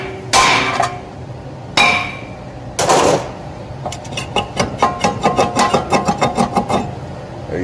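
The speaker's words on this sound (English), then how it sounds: "grab your hammer, hit it right on the face." Three heavy hammer blows ring out on the face of a Honda Accord front brake rotor, followed by a rapid run of about a dozen lighter, evenly spaced clanging strikes, loud and close.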